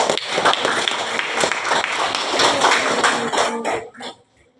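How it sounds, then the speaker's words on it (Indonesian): Classroom applause for a student group finishing its presentation, a dense wash of many hands clapping steadily for about four seconds with a few coughs mixed in, then trailing off into quiet. "Tepuk tangan dulu"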